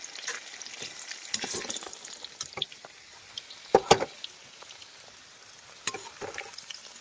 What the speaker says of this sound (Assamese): তেলত মাংসটো এনেকৈ দি ফ্ৰাই কৰি লৈছোঁ অলপ